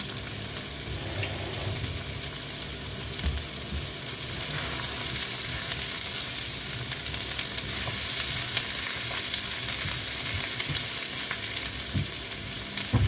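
Prawns sizzle and fry steadily in a pan, a continuous close crackle with occasional stirring clatter, no talking.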